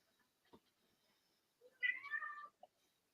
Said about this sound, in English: That bloody cat meowing at.